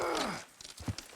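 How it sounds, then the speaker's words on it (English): In Red Dead Redemption 2, hooves clatter in a quick irregular rhythm as horses gallop, following a brief fading whoosh, fairly close and moderately loud. "Watch the horses!"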